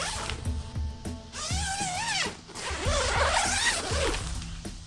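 The zipper on a Coleman Sundome tent door is run open and closed in several smooth, close pulls, each a quick rasping zip with brief pauses between strokes.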